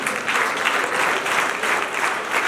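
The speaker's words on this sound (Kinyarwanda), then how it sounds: "dukomere Imana amashyi" A church audience at a gospel concert in Rwanda breaks into loud, sustained applause, dense and continuous with no voice rising above it.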